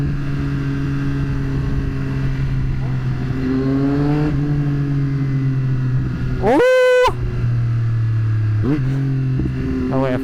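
A Yamaha R9 motorcycle engine drones steadily while riding, then revs sharply upward through a quick climbing blip before settling back. A couple of smaller rises follow, and the engine is loud and close throughout.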